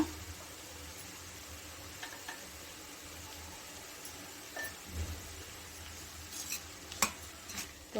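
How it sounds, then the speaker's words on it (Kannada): A spoon stirring salt into a vegetable palya in a pan, with soft scraping and occasional light clinks against the metal over a faint low sizzle, fairly quiet and close. "ಉಪ್ಪು ಚೆನ್ನಾಗಿ ಎಲ್ಲ ಕಡೆ ಬೆರೆಯೋ ಥರ ಮಿಕ್ಸ್ ಮಾಡ್ಕೊಳ್ಳಿ"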